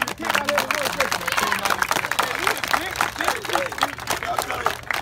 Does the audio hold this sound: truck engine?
no